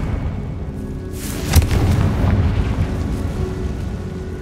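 The Confringo blasting spell fires in Hogwarts Legacy, setting off a single booming explosion that rolls into a sustained rumble before fading.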